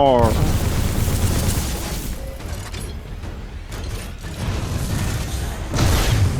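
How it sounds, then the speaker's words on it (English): A laser weapon firing in the video game Titanfall 2 gives a loud, sustained roaring blast layered with mechanical whirring and chirps, rising and falling over several seconds amid busy game effects. "I used my laser. I'm a firing my laser."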